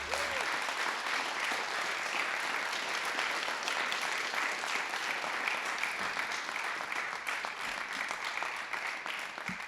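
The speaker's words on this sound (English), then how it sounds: "Can you give them a round of applause, please?" Sustained audience applause at a mayoral portrait unveiling ceremony, a dense steady wash of many hands clapping throughout, fairly loud and even, with no speech over it.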